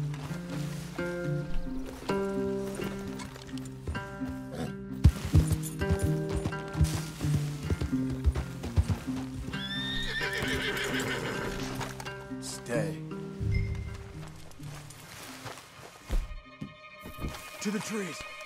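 Horses whinny and neigh while hooves clop in the video game Red Dead Redemption 2, with game-like mechanical clicks and people talking over the scene.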